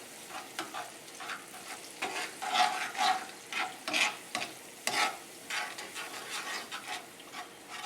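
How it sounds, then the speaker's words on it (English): Butter and garlic with added pumpkin being stirred in a pan for curry pumpkin linguine, soft scraping strokes over a gentle sizzle, close but quiet, no talk. "Mix well in this butter and garlic."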